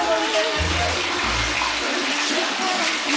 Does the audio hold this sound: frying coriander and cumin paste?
no